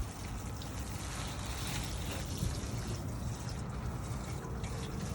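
Water spraying from a hose or watering can onto vegetable garden beds of kale and tatsoi after a deep freeze, a steady close hiss and patter running without a break and with no talking.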